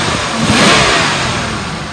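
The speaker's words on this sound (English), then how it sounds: "Let me rev it up." A 1997 Chevy Venture minivan engine revs loudly and up close, rising to a strong roar and then easing back during a brief steady run-up, with no talking.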